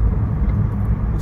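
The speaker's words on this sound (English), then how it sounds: "we're driving to Chester now" Steady, loud low rumble of a car moving along the road on the way to Chester, a continuous engine and road drone with no pauses.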